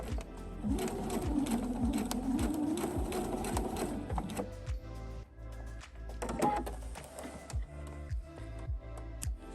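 A sewing machine stitches bias tape around curved fabric edges in short, close, rhythmic bursts of rapid ticking, with brief pauses between runs and no talk.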